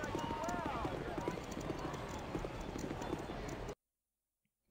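Horse hooves clip-clop in a steady rhythm in the video game Baldur's Gate, loud and close, followed by a neigh, with someone talking over it before the sound cuts to silence.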